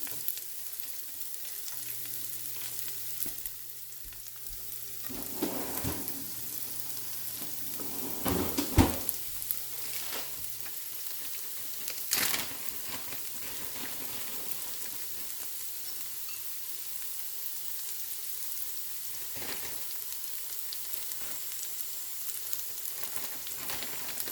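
Okra (ladies finger) fries in oil with a steady, fairly faint sizzle throughout, broken by a few louder crackles and stirring clatters, with a low background hum and no talk.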